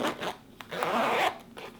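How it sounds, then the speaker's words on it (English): A zipper on a small Chanel double flap bag is pulled open in a couple of quick, close rasping strokes, crisp and alone with no talk. "You have your little zipper here."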